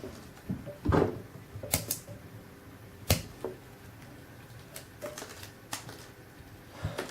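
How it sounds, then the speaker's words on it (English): Zip ties are snipped on a Prusa MK2/2S/3 3D printer hotend, producing several sharp, close clicks and snaps scattered irregularly between quiet handling noises. "let's cut some zip ties"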